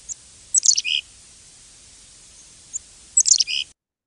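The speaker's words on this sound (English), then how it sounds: "this is called the gargle or T-slink." Two separate bursts of a chickadee's rapid, high-pitched gargling call, each a quick jumble of notes, clear and close with silence between.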